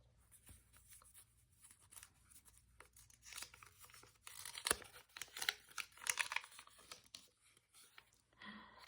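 Message cards about love are drawn from a deck with soft shuffling, rustling and sliding sounds, close and fairly quiet, building in the middle with a few crisp flicks.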